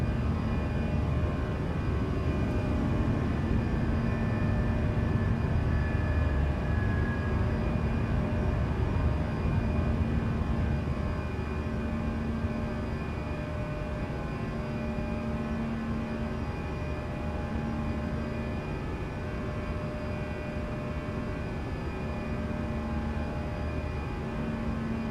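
Engines of an Airbus A318 drone steadily during the takeoff climb in Microsoft Flight Simulator, a loud, continuous hum with sustained tonal whine and no speech.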